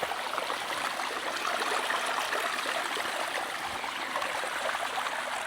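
Cold water stream flowing beside a hiking trail near Barcelona, Spain, a steady close rushing and splashing wash that continues evenly throughout with no voices.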